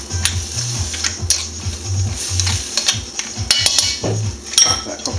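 A spoon stirs a seafood pasta sauce with creme fraiche in a pan, scraping and clinking against the metal over a soft sizzle, close and steady.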